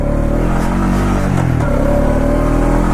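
A 2020 Honda Rancher 4x4 ATV runs in four-wheel drive, its engine a loud, steady, close drone that dips briefly and then recovers.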